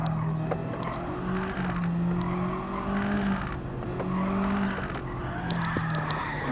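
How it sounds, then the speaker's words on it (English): A car drifts with sustained tire skidding and squeal in the racing game Gran Turismo 7, engine droning underneath with repeated surges of screech, loud and continuous. "Let's drift out of the pit"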